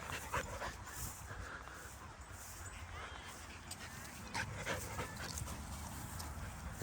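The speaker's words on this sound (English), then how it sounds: "Oh, look at this dog." Quiet outdoor sounds of a dog panting with soft whimpers and small yips, a faint voice nearby, under steady background noise.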